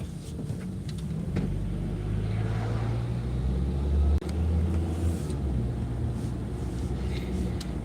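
Car driving through a residential neighborhood in Delaware County, Pennsylvania, a steady low engine and road rumble from inside the vehicle, with no talk.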